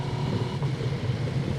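Husqvarna Norden 901 motorcycle engine pulling steadily under acceleration, a continuous loud drone with a low rumble, close and without talk.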